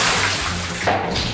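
Water being poured over a person indoors, a brief rushing splash that falls away after about a second, fairly close, with no speech.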